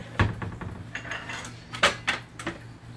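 Pâté chinois is plated with dishes and cutlery, a series of close, sharp clinks and scrapes of utensils against a plate, irregular and fairly soft.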